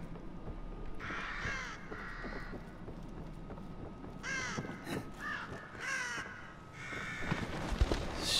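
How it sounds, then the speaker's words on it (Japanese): Crows caw in bursts of repeated harsh calls around a factory area in a horror video game, fairly distant and quiet, with low ambient rumble and occasional soft thuds between calls. "周囲ではカラスの声"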